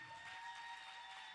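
An audience at a hip-hop event claps hands before a conversation with Talib Kweli, heard as a faint, distant wash of clapping over a steady hum.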